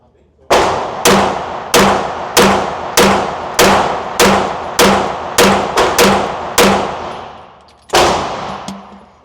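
A CZ Shadow 2 compact pistol fires about ten sharp, loud shots in a fairly even rhythm at a shooting range, each crack ringing with a metallic tail, a short pause before the final shot.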